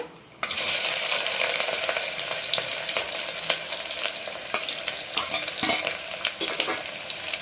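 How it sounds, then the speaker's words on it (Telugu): Onions frying with cinnamon and cloves in a pan for gongura mutton, a steady loud sizzle with occasional stirring scrapes, close and continuous after a brief quiet start, no talking. "బాగా ఎర్రగా వేగాలి. ఇది ఎర్రగా వేగితేనే బాగుంటుంది గోంగూరలోకి."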